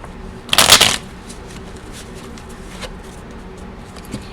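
A quick burst of tarot cards being shuffled, a short crisp riffle near the start, followed by quiet room tone with a few faint taps.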